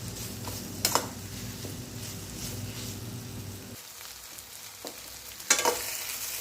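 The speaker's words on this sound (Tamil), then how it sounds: "இந்த பாவக்காய் வெங்காயம் இதெல்லாம் நல்லா அந்த எண்ணெயிலே ஒரு 10 நிமிஷத்துக்கு நல்லா வதங்கி வரட்டும்." Bitter gourd and onion sauté in hot oil in a pan, giving a steady close sizzle with a few sharp clinks and stirring knocks, no talking.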